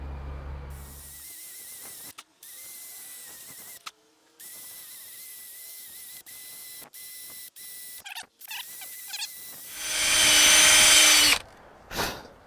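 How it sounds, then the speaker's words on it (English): Power drill running in short bursts while working on a damper of a 1983 Kenworth cabover truck, a whining motor that starts and stops several times with mechanical clicks and a louder, harsher final run. "run the drill around in there"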